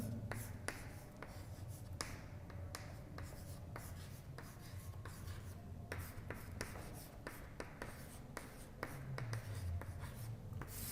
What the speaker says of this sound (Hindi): तो यहां पे मैं लिख दे रहा हूं रामकृष्ण मिशन।